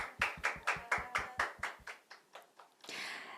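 Applause from the audience at the close of a Korean parenting talk show: roughly ten crisp, evenly paced claps, moderately close, then a brief wash of scattered clapping at the end.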